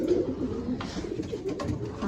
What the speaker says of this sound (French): Alors ici, il y a mes pigeons.